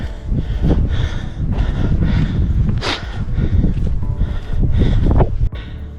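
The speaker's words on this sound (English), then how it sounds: "Wind's getting up now, we're out of the trees." Wind gusts across an open hillside above Cheddar Gorge, buffeting the microphone with a loud, steady low roar that swells and eases over a few seconds.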